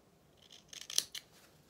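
Sharp scissors snip close-up through the seam allowance at the corners of a sewn fabric fisherman's top, about three quick crisp cuts in a short, quiet burst.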